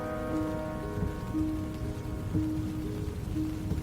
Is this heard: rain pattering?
yes